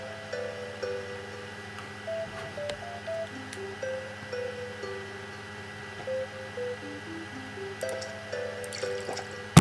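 Watering plants with a watering can in Plants vs. Zombies, heard as soft, repeated dripping and pouring water blips mixed with steady, tuneful game music, with no talking.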